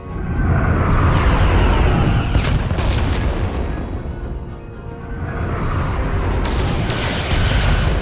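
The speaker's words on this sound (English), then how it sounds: "Fire phasers!" Phaser fire and impacts during a starship battle in the Star Trek: Resurgence video game, with loud, dense booming blasts that roll on continuously, briefly dip in the middle and then surge again.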